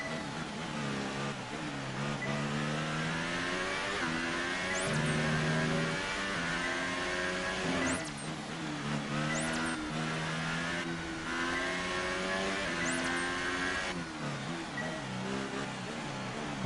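A McLaren Formula 1 car in F1 2018 races at speed, its high engine note rising and falling through gear changes and corners, with quick upshifts and steady loud droning throughout.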